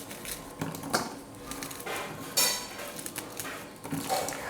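Biscuits are snapped by hand into a bowl in a home kitchen, giving a series of close, crisp cracks and crunches at an uneven pace, with small clinks between them.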